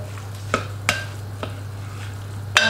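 Vegetables are stirred into a beef stew in a slow cooker, with a few distinct scraping, clacking strokes of a utensil against the pot spaced irregularly over a low steady hum, one sharper knock at the end.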